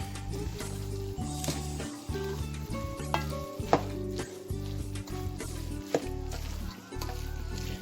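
Fresh corn frying in hot grease while being stirred in a pan, a steady sizzle with repeated scraping stir strokes and occasional utensil knocks, close and fairly loud with no talking.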